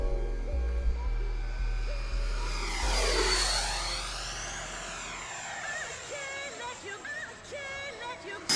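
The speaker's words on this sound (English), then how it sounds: "The Sabre is a real joy to take off, lifting up on its own with barely any elevator input required to make it rotate." An FMS F-86 Sabre 80mm foam RC model jet passes by in flight, its ducted-fan whine rising and sweeping down in pitch as it nears and moves away, with no talk over it.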